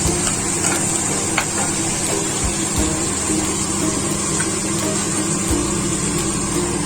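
Masala prawns frying in a pan with chilli, a continuous close sizzle and hiss with occasional soft scraping knocks of stirring, with no talk.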